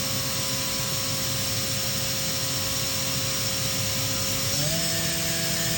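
A 2011 Makino F5 CNC vertical machining center spindle runs steadily at 6,000 RPM with a constant high whine over shop hum, its pitch stepping up near the end as the speed climbs.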